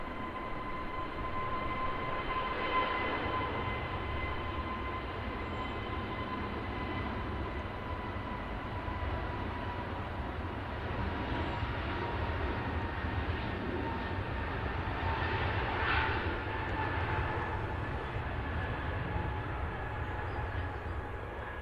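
An EasyJet airliner at Manchester Airport gives a steady, distant roar with a faint whine held throughout, swelling slightly mid-way, with no talk over it.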